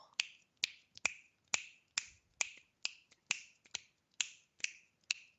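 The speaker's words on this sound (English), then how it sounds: "how do you snap your fingers?" Fingers snapped one after another, about a dozen crisp, close snaps in a fairly steady rhythm with short gaps, alone in a quiet room.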